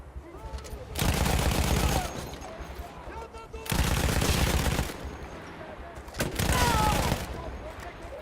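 Three loud bursts of rapid automatic gunfire in Battlefield 1, each about a second long and spaced a couple of seconds apart, over a steady battlefield rumble.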